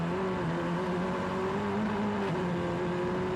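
A Formula 4 race car drops down the hill in Macau Grand Prix qualifying, its engine droning steadily and loudly in a continuous high whine, with no break in the sound.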